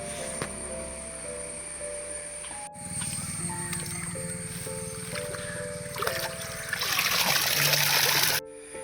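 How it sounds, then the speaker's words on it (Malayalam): Stinging nettle greens are rinsed in a clear stream, with water trickling and splashing close by, soft rustles and a louder burst of splashing near the end, under a faint speaking voice and droning background. "തോട്ടിൽ നമുക്ക് കഴുകിയെടുക്കാം."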